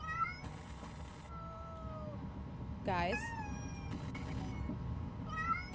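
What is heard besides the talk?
kitten meowing in video game Amanda the Adventurer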